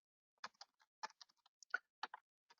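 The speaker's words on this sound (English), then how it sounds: "So I'm gonna just type in ask the experts." Typing on a computer keyboard while filling in a BIM360 project form: a sparse, irregular run of about a dozen light key clicks, fairly close and quiet, with no talk.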